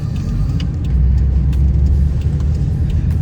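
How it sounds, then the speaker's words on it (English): A Toyota JZX100 Chaser, right-hand drive, cruising on a street, its steady low engine rumble and road noise constant throughout, with faint clicks and rattles on top and no voices. "I'm heading out onto the street for the first time in a right-hand drive vehicle. And I'm gonna go for a little spin."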